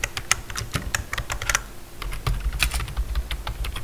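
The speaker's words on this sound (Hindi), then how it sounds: "typing and sound test" Typing on a Zebronics membrane keyboard, with fast, close, soft clacks in quick irregular bursts and a slightly heavier thud in the second half.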